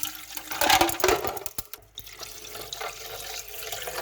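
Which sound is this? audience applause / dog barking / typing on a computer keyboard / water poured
water poured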